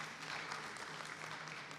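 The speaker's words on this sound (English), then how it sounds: "Can we give them a round of applause?" An audience at a learner environment safety summit in Mbombela, Mpumalanga, claps together in a dense, even wash of applause, fairly distant and soft, sustained through the whole short stretch.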